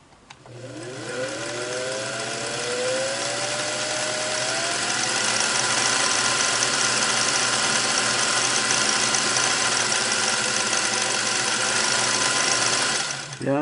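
A Singer Model 404 sewing machine runs with its bobbin case installed, a steady close mechanical whir and hum with a rising whine as it speeds up, continuing evenly for over ten seconds with no talking.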